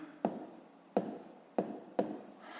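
A pen writes numbers by hand during a fifth-grade math exercise, making four short scratchy strokes spaced about half a second apart, close and fairly quiet with no talking.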